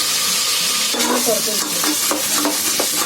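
Tomato sizzles and crackles steadily in a hot pan, with a few scraping stirs partway through.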